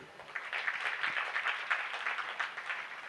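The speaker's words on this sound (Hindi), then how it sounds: "तालियां बज गई, समाप्त करते हैं।" Brief applause from an audience at the close of a religious discourse, many hands clapping at a steady rate, moderately faint and even throughout.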